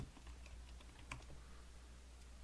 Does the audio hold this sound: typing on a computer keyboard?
yes